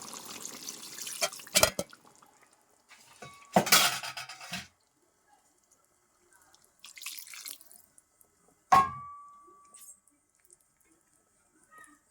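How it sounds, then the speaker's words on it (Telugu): Water splashes into a pot of chicken curry in a few short bursts, with metal clinks and quiet pauses between them. "ఇప్పుడు నేను వాటర్ అనేది యాడ్ చేసుకుంటున్నాను."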